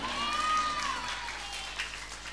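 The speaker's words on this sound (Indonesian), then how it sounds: "tepuk tangan anak-anak." Children applauding during a lively Islamic religious gathering, a steady wash of clapping heard at moderate distance that tapers slightly toward the end.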